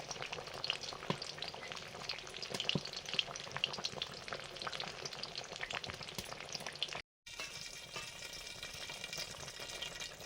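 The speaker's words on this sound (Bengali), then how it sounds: "ঝোল ফুটে গেছে, ভাজা মাছগুলো দিয়ে দিলাম। রুই মাছ," Fried rohu fish pieces going into a boiling curry (jhol) with green chillies, giving a steady close bubbling sizzle with scattered clicks and stirring knocks, briefly cutting out near the end before resuming.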